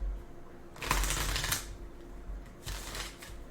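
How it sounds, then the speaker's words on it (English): Two quick bursts of tarot cards being shuffled close by outdoors on a windy day, a papery riffling flutter, with a short pause between them and no talking. "Kind of shuffle these up."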